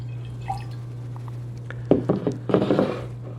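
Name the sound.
hard pour of Sirius Black barrel-aged imperial stout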